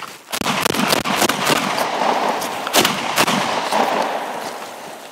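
A cheap Panzer semi-automatic shotgun fires shells filled with pearled barley outdoors, a rapid string of sharp, loud blasts close by, each followed by rumbling echo that trails off.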